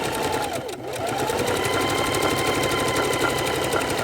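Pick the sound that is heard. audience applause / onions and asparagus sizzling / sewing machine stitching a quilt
sewing machine stitching a quilt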